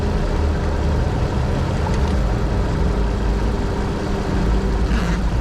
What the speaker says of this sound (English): I guess I just need to try to keep the car running